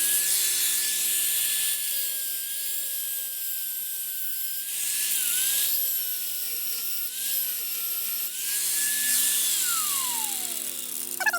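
A cheap Harbor Freight angle grinder whines loudly and steadily for about eleven seconds while grinding on a very rusty Volkswagen Bus frame. Its pitch sags briefly under load and then winds down at the end.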